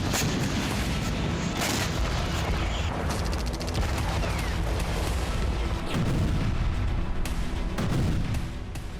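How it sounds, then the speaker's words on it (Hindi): Russian Grad rocket launcher firing in Ukraine, a loud, dense barrage of booming blasts and rapid launches, continuous and close with no speech. "रूसी सेना ने ग्रैड रॉकेट लॉन्चर से जबरदस्त तबाही मचाई"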